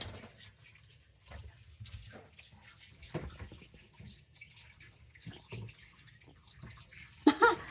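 Tap water runs and splashes steadily during washing at a home kitchen sink while marinating chicken inasal, with short clattering bursts near the end and no talk.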